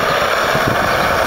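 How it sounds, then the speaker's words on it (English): Strong wind buffets the microphone beside a conversion kiln, producing a loud, constant rumbling roar for the whole short stretch, with no voices. "There's so much wind here right now."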